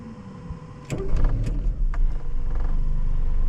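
A carbureted 1.4-litre Peugeot 309 engine starts with a brief crank and then settles into a steady idle close by, with a few clicks and whirs as cabin controls are switched.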